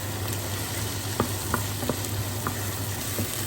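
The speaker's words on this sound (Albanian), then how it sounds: "Edhe i kavaditin pra qip deri sa të zbutën mirë." Onions sautéing in a pot for goulash, giving a steady, close sizzle and frying hiss with a few soft stirring clicks and no talk.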